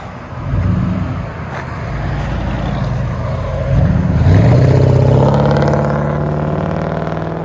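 A 1994 Mercury Grand Marquis with a 4.6L V8 and true dual exhaust through Vibrant resonators and 4-inch tips drones steadily while driving, then rises in pitch and loudness as it accelerates, a deep continuous rumble with no talking.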